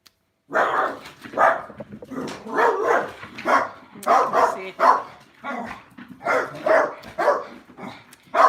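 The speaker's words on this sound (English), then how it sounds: "It's a tiny wee dog outside." A small pug barks outdoors in a steady run of sharp, fairly loud yaps, roughly two per second, with brief gaps and no voices over them.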